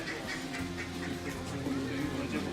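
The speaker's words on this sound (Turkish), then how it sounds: "Ördekler" Ducks quacking in a short run of repeated nasal calls, fairly faint and set against a steady low background murmur.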